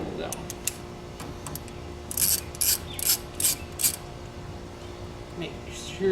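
A ratchet with a socket works on a 1970 GTO, with about five short bursts of quick clicking in the middle over a low background hum.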